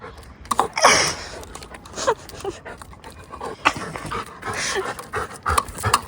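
A dog pants rapidly and steadily up close, with quick breathy huffs and occasional small whimpers.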